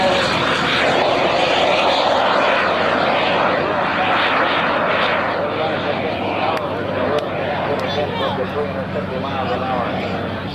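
Bud Light micro jet making a gear-down pass at a 2000 airshow, a loud continuous jet roar close by that holds steady for the full stretch, with a crowd murmuring underneath.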